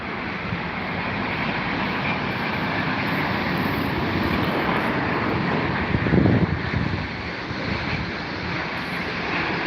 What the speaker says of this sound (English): that's Qatar Airways A350